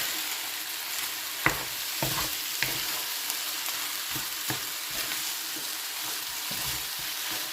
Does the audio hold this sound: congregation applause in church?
no